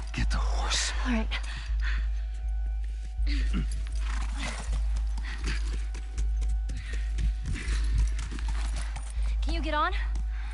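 Horse hooves clip-clop in a steady walking rhythm in The Last of Us, close and continuous, under a low droning ambience with brief whispered voices and a short whinny near the end.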